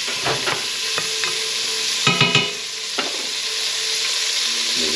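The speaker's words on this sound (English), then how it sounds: "You can hear the fat really starting to fry there now." Pork fat fries steadily in a pan while a rabbit stew is being made, giving a close, continuous sizzle broken by a few clinks and scrapes of stirring.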